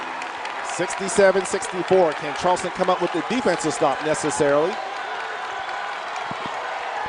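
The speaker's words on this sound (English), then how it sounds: "As you hear the crowd" A college basketball arena crowd cheers and applauds during a close Charleston versus Northeastern game, a steady roar sitting under a play-by-play announcer who talks throughout.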